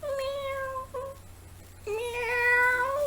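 A cat meows twice, a short mew followed after a pause by a longer, rising cry, close and clear with no other sounds.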